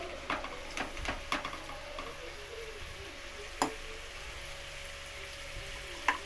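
Stuffed eggplant pieces filled with masala paste frying in oil for gutthi vankaya curry, a constant close sizzle with scattered ticks and light clicks of stirring throughout.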